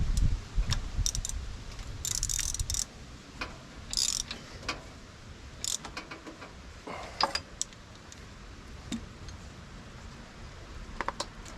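A socket wrench ratcheting a bolt, heard as bursts of clicking and rattling metal mechanism with pauses and scattered knocks, close by with no voices.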